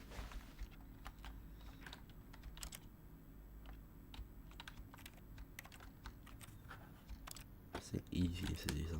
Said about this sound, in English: I'm just gonna try pressing every single other button on my keyboard